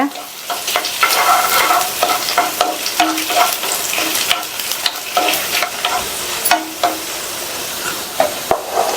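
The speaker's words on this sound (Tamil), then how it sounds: "இந்த காஞ்ச மிளகாவையும் ஒரு நிமிஷம் போல நல்லா எண்ணெயிலேயே வதக்கி விட்டுக்கோங்க" Dried red chillies sautéing in hot oil, about seven or eight of them, with a steady close sizzle broken by frequent scraping stirs of a spoon against the pan.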